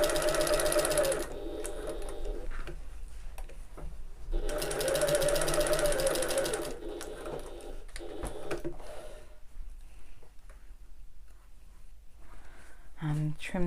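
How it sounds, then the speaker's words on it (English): A sewing machine stitches around the fabric edges in two close bursts of steady whirring, separated by pauses with handling noise and a little soft talk. "lower my presser foot, and I can carry on sewing then"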